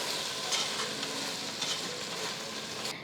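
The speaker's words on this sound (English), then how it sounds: "Continue to saute the tomatoes." Tomatoes sautéing in a pan with salt for mutton biryani, a bright continuous sizzle with brief stirring swishes, close and fairly loud, fading slightly at the end and with no voices.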